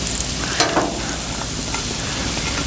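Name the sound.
turnips sizzling in avocado oil on a griddle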